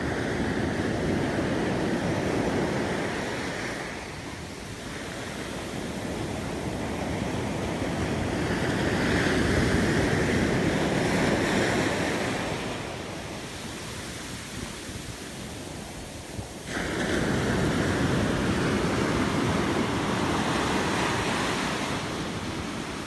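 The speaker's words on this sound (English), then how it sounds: "look, the sea is so beautiful." Sea waves surge and break on the shore at Las Palmas, a continuous loud wash of surf rising and falling in long swells with wind buffeting the microphone and no voices.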